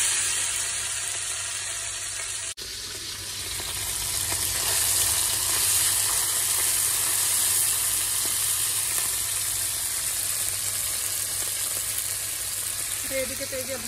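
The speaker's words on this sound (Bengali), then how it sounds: "এই যে মাছ কেটে নিয়ে এসেছি, ট্যাংরা মাছ, এগুলোই এখন ভাজবো।" Pieces of tangra fish fry in hot oil in a pan, giving a loud, steady, close sizzle that runs throughout with little change.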